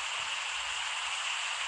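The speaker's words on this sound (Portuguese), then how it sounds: "Chuva com vento, mano." Heavy rain with wind in a rain-and-thunderstorm video game, a steady, dense hiss of falling water with no breaks.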